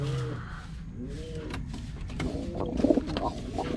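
Soft, low cooing of a pigeon or dove repeats a few times against steady background rumble, with a slightly louder burst near the end.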